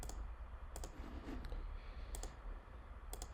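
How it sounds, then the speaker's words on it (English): Left mouse button clicks while trimming lines in Fusion 360 CAD software, a few sharp separate clicks over steady low background hum. "I'm just left clicking to delete them."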